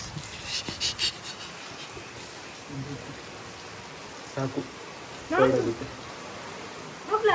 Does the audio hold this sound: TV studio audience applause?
no